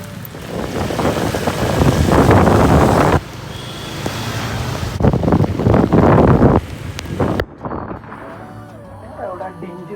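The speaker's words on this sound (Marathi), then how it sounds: "एवढा डेंजर पाऊस चालू आहे ना काही" Heavy monsoon rain pours in a loud, dense roar that cuts in and out abruptly, with someone talking over the downpour.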